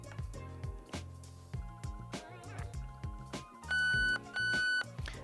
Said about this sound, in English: press and hold that trigger and listen for your 2 audible beeps.